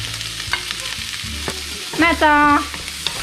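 Vegetables stir-fried with dried chilies crackle and sizzle steadily in a hot pan, with a short louder hiss and clatter of stirring near the end; no one speaks.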